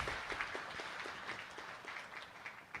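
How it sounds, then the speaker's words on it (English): A conference audience claps after a technical talk, heard as a faint, distant patter of individual claps spread evenly across the whole clip. "one more round of applause, please, for Adriana."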